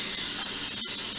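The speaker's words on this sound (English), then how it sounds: "spray a pan with some nonstick spray. I use Pam and an 8x8 pan." Pam nonstick cooking spray hisses from the can onto an 8x8 baking pan in one continuous loud spray, with only a brief break near the end.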